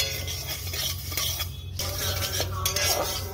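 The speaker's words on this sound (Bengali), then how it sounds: "এবার আমি তিসিকে ভালো করে ভেজে নিব।" Flax seeds roasting in a hot wok (kadai) for pitha, a spatula scraping and stirring against the metal with soft rustling of the seeds, close and continuous under a low background hum.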